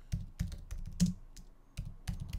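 Keys clatter on a computer keyboard nearby in quick irregular bursts with short pauses, typing a search term; no one speaks.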